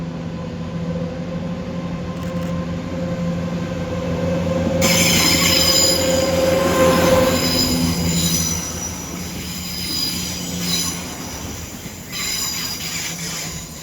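A Class 170 diesel multiple unit passes through Doncaster station, its wheels squealing loudly on the rails over a steady engine drone, with the noise swelling midway and then easing as it goes by.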